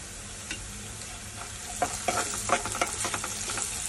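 Chillies and curry leaves fry in hot oil with onions in a pan, a soft continuous sizzle joined by a run of close, sharp spoon scrapes and clacks as they are stirred.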